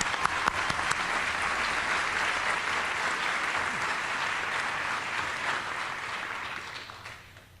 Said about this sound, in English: let's give a warm round of applause for George John